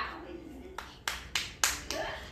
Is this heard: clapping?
yes